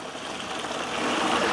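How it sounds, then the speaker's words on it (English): Hot water pours into a Yeti cooler, a steady rushing splash that builds slightly louder over a couple of seconds, close and alone with no talk. "In with some hot water we go."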